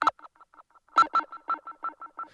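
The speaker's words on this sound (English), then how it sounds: "That's my siren effect." A dub siren effect from a live Ableton dub setup fires short electronic beeps in a quick, steady rhythm, with a few louder hits and echoes trailing between them, moderately loud and with no talking.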